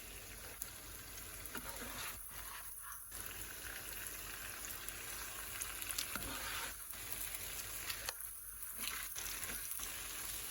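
Chilaquiles rojo fry in a pan as the cheese on top melts, giving a soft, continuous sizzle with faint crackles at low volume and a few brief lulls. No voices.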